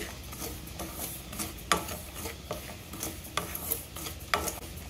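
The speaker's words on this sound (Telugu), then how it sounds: "గోధుమ రవ్వ ఇలా వేగుతుంటే మంచి అరోమా వస్తుందండి" Wheat semolina (rava) roasts dry in a pan, stirred with soft repeated scraping and rubbing strokes, fairly faint and close, with occasional sharper scrapes.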